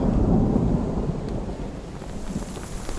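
Heavy rain pours down with a deep rumble of thunder on an island, a loud, dense wash of rain under a rolling thunder roll that eases slightly, with no voices.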